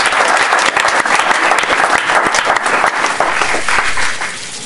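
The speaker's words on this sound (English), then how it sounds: "give her a round of applause" Audience applause for a speaker at the close of a talk on measuring teaching and learning in math, a dense round of clapping filling the room, steady for about four seconds and then thinning out at the end.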